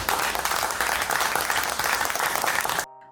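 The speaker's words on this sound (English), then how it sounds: "Woo, applause track" A canned applause track used as a sound effect opens a podcast, a dense, loud burst of clapping and cheering that plays steadily for about three seconds before cutting off abruptly.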